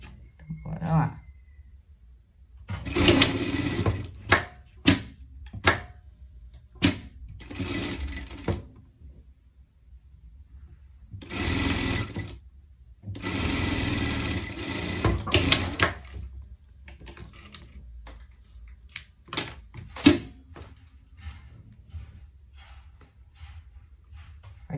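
A sewing machine stitches a small pet dress in several short and longer bursts of rapid mechanical whirring, with pauses and clicks between them and a voice speaking at times.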